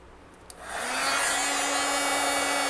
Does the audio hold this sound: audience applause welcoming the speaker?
no